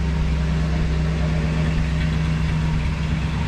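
A cold 1966 Ford Galaxie 500 V8 idles steadily up close, a continuous low rumble with an even hum and no voices.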